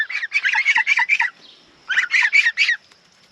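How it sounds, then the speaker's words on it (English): Young African geese give two bursts of rapid, honking calls, five or six notes each, close and clear with a short quiet gap between bursts. "They're African geese, right?"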